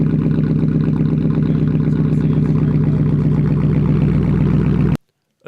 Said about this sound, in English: You can actually hear the difference out of both pipes.